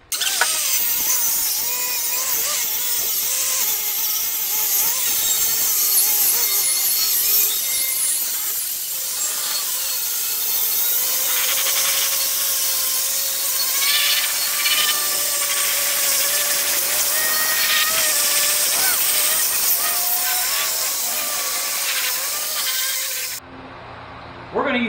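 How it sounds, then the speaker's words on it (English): A power tool whines steadily as it cuts through wood, a continuous harsh buzz with slight shifts in pitch, loud and close, stopping abruptly near the end. "So Keggan gets to use his power tools now, huh"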